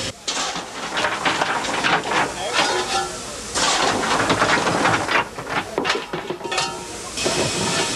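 The LNER steam locomotive Mallard hisses and chuffs in loud bursts on the Settle and Carlisle line, with clattering rail noise and brief gaps between the blasts.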